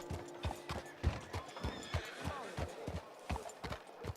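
A horse in Red Dead Redemption 2 clip-clops with steady, close hoofbeats as it is brought to a stop, and a brief neigh sounds partway through.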